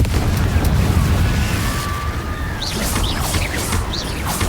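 Incendio and Confringo fire spells bursting in Hogwarts Legacy, a continuous loud low rumble of explosions with crackling bursts and faint chirping effects layered on top, with no talk over it.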